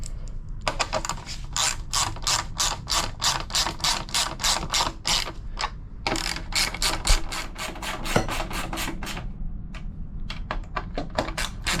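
Rapid metallic ratchet clicks sound during a Honda EU7000 generator service, the wrench driving bolts home in quick close bursts of ratcheting with brief pauses between strokes.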